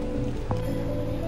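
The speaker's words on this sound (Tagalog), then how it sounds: "Umuulan na." Rain falling outdoors, a steady wet hiss with soft drips and a brief splashy burst midway, heard alone at moderate loudness without speech.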